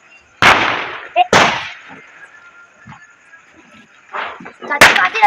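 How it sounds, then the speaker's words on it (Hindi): Diwali firecracker bombs set off outdoors: three loud, sharp bangs, the second close after the first and the third after a pause, with faint voices and rustling in the gaps between blasts. "ये देख लो फ्रेंड, ये कौन सा बम है"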